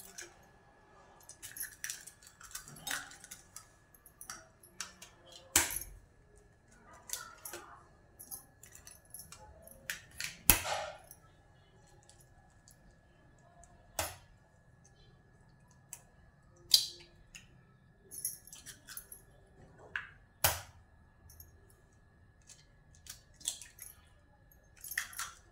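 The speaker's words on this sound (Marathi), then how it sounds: "मी आता अंडी फोडून घेते." Eggs cracked open in a home kitchen while oil heats on the stove: a handful of sharp, isolated taps and soft wet squishes spaced several seconds apart, quiet and close against a hushed room.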